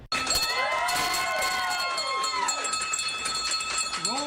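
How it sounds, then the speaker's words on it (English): A bell rung to mark a patient's final cancer treatment, several bright ringing strikes with long shimmering decays over crowd noise and a few raised voices, the tones fading out toward the end. "Here is a video of Eli Gold ringing the bell, signaling that he had his last cancer treatment."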